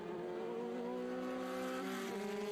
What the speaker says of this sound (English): here's another little battle starting to erupt between the number 8, that's John Delane, in the Chevron B21, and the number 7